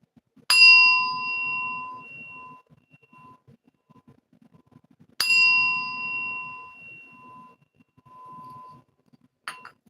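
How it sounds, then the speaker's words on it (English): A bright bell is struck twice, each strike ringing out clearly and fading slowly, with a faint third tap at the very end. "this gets way louder than a regular bell"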